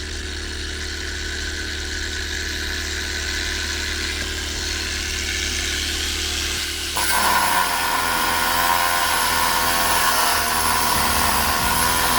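Angle grinder running off a Dnipro-M petrol generator, a steady whining motor drone with the engine hum underneath, then a sudden shift to a louder, busier tone as the load changes partway through.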